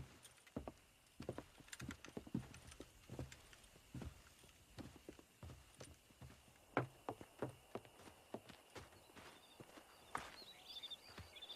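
Horse hooves clip-clop in an irregular patter, with occasional rattles and knocks, low and fairly distant, as horses are wrangled in the Red Dead Redemption video game on Xbox 360; no one speaks.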